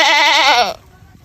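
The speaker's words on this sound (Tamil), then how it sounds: "ஆடு மே மே என்று கத்தும் ஆடு." A goat gives one loud, close, wavering bleat lasting under a second, followed by quiet.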